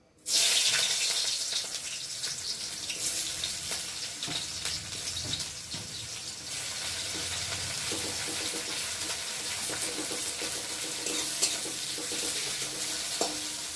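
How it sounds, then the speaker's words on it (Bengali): Chopped onions frying in a pan for a small-fish recipe: a continuous bright sizzle and crackle that begins abruptly and holds steady, with occasional clinks and scraping of a utensil, no voices. "তো চলো আমি ফার্স্টে পেঁয়াজগুলো দিয়ে ভেজে নেব"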